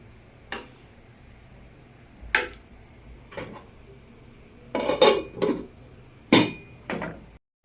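A metal lid is set onto a cooking pot while koi fish and cauliflower cook. Several sharp, separate clanks and rattles come close and fairly loud, with quiet pauses between them.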